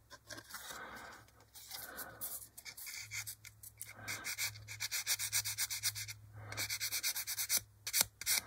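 Sandpaper rubs on a part from a 1/48 HK Models B-25J plastic kit in short, close, quiet back-and-forth strokes that speed into a quicker, steadier scrubbing rhythm partway through.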